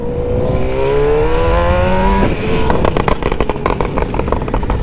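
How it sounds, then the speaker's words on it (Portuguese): A CBR-mapped motorcycle engine, freshly started, idles with a rough steady note, then breaks into loud popping and crackling bursts from the exhaust, close by. "Acabei de ligar a moto."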